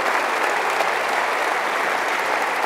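Audience applause during a business leader's speech in France: dense, steady clapping from a large crowd filling the whole moment at an even, sustained level with no voices over it.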